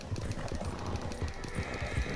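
Horse hooves galloping in the video game Red Dead Redemption 2 Online, a quick, steady run of low thudding footfalls that stays close and fairly loud throughout.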